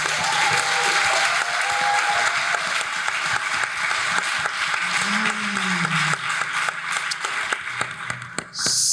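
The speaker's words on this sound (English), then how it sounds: "So let's give a big up applause again for Ross Gay for" Steady, dense applause from a large audience fills the whole stretch, loud and sustained, fading briefly near the end.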